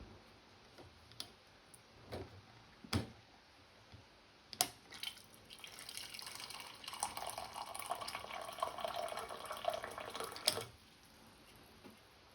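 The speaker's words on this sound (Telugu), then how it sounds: "నేను జస్ట్ ఇలా బటన్ ప్రెస్ చేసేసి హాట్ వాటర్ నేను తీసుకోగలుగుతాను" A water purifier dispenses hot water after a button press: a few sharp clicks first, then a soft stream of water pouring and gurgling into a container for several seconds before it stops.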